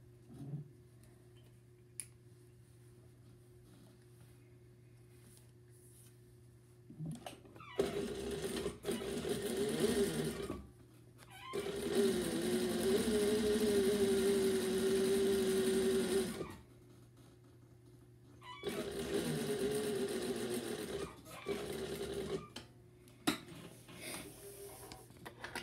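A sewing machine stitches a seam for an inseam pocket at a half-inch seam allowance, running in three separate close whirring bursts divided by quiet pauses with small handling clicks.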